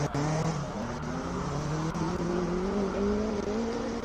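A Honda Civic Type R race car climbs a hillclimb course, its engine note rising steadily through a gear as it pulls, loud and continuous.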